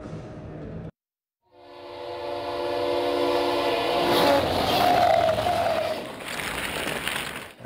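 A train roars past close by, its horn blowing in a long loud blast that swells and then fades under the rumble of the rail cars.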